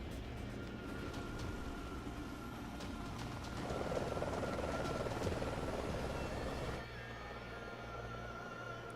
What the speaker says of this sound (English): Just run up and grab that helicopter and pull it back to the ground, Majima.